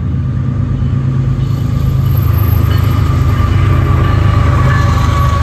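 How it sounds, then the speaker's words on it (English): A mile-long Florida East Coast Railway oil freight train rumbles past close by in Boca Raton, a steady loud low roar with rail clatter and a faint high squeal, continuing without letup. "it's actually the Florida East Coast Rail"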